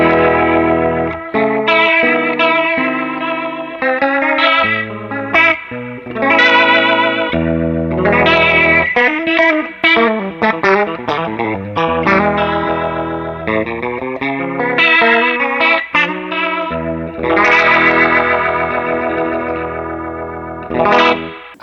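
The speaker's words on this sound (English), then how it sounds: "the sound I use in it the most on my own gig is the Leslie sound" Electric guitar lines swirl through a Leslie rotary speaker effect, choppy phrases with a warbling chorus-like shimmer and slight grit, played alone without speech.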